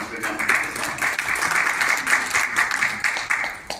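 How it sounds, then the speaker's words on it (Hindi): An audience at an event in a hall in Raipur applauding loudly to welcome a speaker, with dense clapping that swells and fades slightly in waves throughout. "जोरदार तालियों से आपका स्वागत करता हूं"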